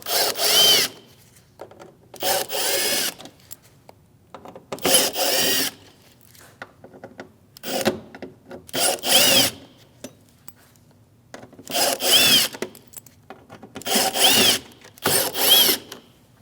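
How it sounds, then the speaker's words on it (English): A power drill fitted with a T15 Torx bit backs screws out of the plastic top trim on a 2016-2025 Chevrolet Malibu, whirring in short bursts of about a second each with brief gaps between, close and loud. "we're going to take these top screws off going across, and this is a T15, it's a Torx bit"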